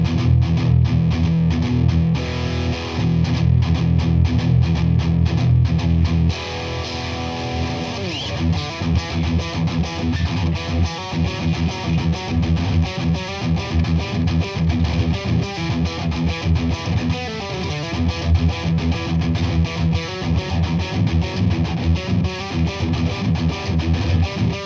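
Parker PDF35 electric guitar with its piezo pickup blended in, heard as a continuous, bright, distorted strummed passage at steady loudness throughout, with no speech over it.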